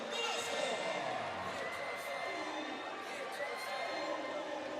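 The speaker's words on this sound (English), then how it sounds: "The Quezon crowd starting to come alive here." A Quezon crowd at a professional MPVA volleyball match against Dasmariñas roars with steady cheering and shouts, a dense, continuous wash of voices with a commentator talking over it.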